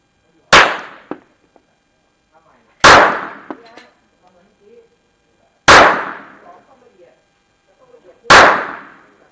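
Four sharp gunshots from a Beretta 950 BS Jetfire 6.35 mm pistol, evenly spaced about three seconds apart, each a loud crack with a short ringing tail and faint clicks of the action between shots.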